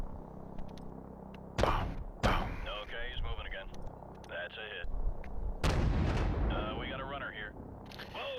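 AC-130 gunship in Call of Duty: Modern Warfare Remastered firing on ground targets: heavy, booming cannon blasts arrive in a few separate bursts, loud and close, with crackling gunfire and radio-style voices talking between and over them.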